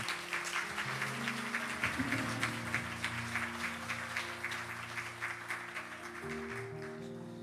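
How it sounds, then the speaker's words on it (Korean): A church congregation at a Sunday worship service claps warmly to welcome a deacon forward, a soft, fairly distant patter of applause over sustained keyboard music. "우리 김진우 집사님 나오실 때 우리 따뜻한 박수로 우리 맞이해 주시면 감사하겠습니다"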